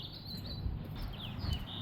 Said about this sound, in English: I love hearing the birds sing.